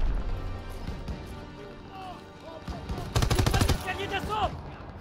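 Gunfire from the World War II shooter Call of Duty: WWII, with bursts of rapid machine-gun fire and scattered shots amid battle noise, the loudest volley partway through, and shouted voices around it.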